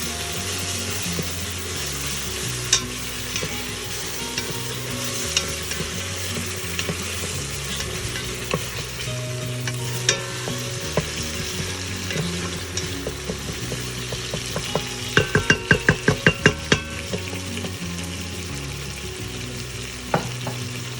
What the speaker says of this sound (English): I'm going to add to this 1 tablespoon full of ginger garlic paste and let that also cook